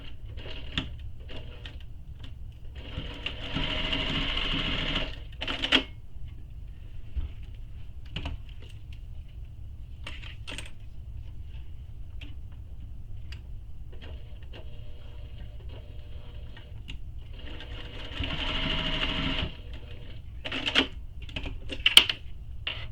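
A sewing machine stitches a mini messenger bag in two short runs of rapid, even clatter, close and moderate, with quiet handling noises and clicks between them.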